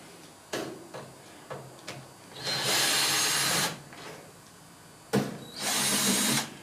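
Power screwdriver whirring in two sustained bursts while removing screws from the panels of a Whirlpool Diplomat dishwasher, with short taps and clicks between runs, close and loud.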